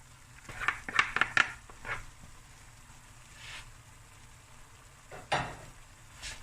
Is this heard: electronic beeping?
no